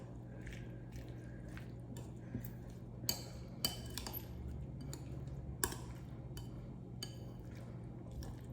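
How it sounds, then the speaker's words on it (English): Mango salsa being stirred in a bowl gives soft, wet squishing and scattered clicks of a utensil against the bowl over a steady low hum, fairly faint and close. "And then we're gonna mix it."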